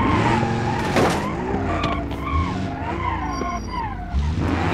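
Car tires skid and brakes squeak during a race in a racing video game, with continuous engine noise and sliding squeals over a busy, loud mix.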